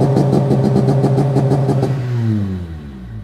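A Honda Integra Type R engine bounces against its launch-control limiter around 4,000 RPM, a loud, rapid stuttering rev held for about two seconds before the tone drops away as the car moves off.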